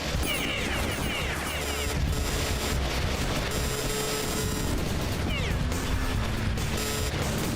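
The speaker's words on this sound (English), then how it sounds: "but I think it's from the cannons on the roofs that's doing that, maybe? Or maybe the artillery, yeah, it's the artillery." Artillery fire from rooftop cannons in the video game Beyond Citadel: a dense, continuous barrage of crashing booms and gunfire with mechanical clatter, loud and chaotic throughout, with no pauses.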